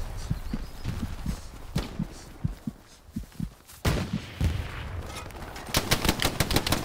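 Gunfire in the Hell Let Loose war game: a series of sharp broadband shots, some scattered and some in quick bursts, with a dense rapid volley near the end. The shots land close and loud, and dull thuds sound between them.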